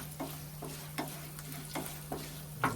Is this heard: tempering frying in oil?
yes